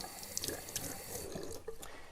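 Water is poured in to give photographic film an initial rinse after fixing, a soft, continuous splashing and trickling that stays close and fairly quiet, with no talk.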